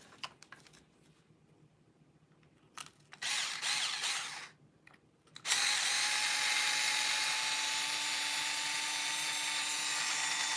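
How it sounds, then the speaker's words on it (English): A power driver whirs in short bursts, then runs in a long steady drone while backing screws out of a Treal LMT axle assembly, close and fairly loud with ratcheting clicks between. "Lots of screws we gotta take out if we want to take that apart."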